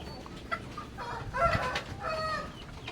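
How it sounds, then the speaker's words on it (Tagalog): Rhode Island Red breeder hens and a rooster on a farm give soft, close clucks and short calls in irregular bursts over quiet background noise. "ito po yung ating mga Rhode Island breeders. 8 inahin at isang rooster."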